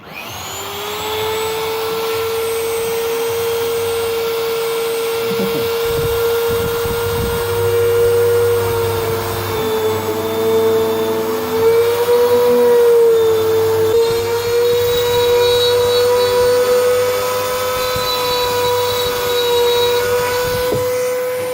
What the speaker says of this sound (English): kind of like still the Dremel tool, but it's set up so it effectively works the same way as a router, basically.